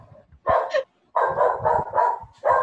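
A dog barks in short loud bursts, several close barks in an irregular rhythm with brief pauses between them, heard indoors with no talk.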